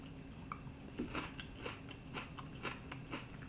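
A StarrRacha Pumpkin pepper is bitten and chewed close up, with repeated crisp, crunchy bites and mouth sounds at a steady pace over a quiet background.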